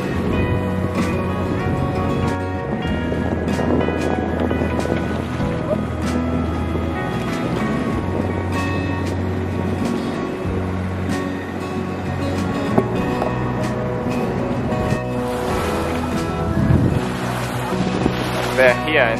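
Sailboat under motor with sails up in strong wind, a steady engine drone mixed with loud wind buffeting the microphone and water noise, with people talking over it.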